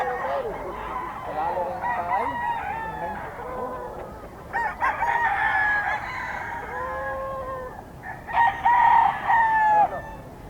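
A gamefowl stag crows at a busy Philippine market, its drawn-out calls rising and falling among other roosters crowing nearby, with voices talking in the background.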